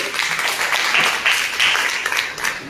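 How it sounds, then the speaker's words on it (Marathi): Audience applause for a radio host's daughter at a Marathi stage event, a steady wash of many hands clapping at moderate loudness throughout, with no talk over it. "तिच्यासाठी टाळ्या वाजवल्या."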